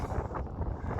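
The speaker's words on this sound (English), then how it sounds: "God, this wind. Oh my God, now it's picking up." Strong outdoor wind buffeting the microphone beside a fenced yard, a dense rumbling roar with fluttering gusts that stays loud throughout, no talk.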